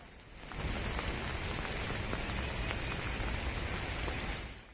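Heavy rain pours steadily onto surfaces during a flood in Comilla, a dense, even hiss that swells in after a moment and holds without pause.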